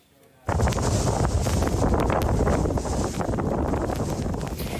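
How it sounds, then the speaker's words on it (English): Strong wind buffets the microphone during a snowstorm in Cape Breton, Nova Scotia, starting abruptly after a brief quiet moment and then roaring as a loud, continuous rumbling rush. "You can hear that wind on the mic there"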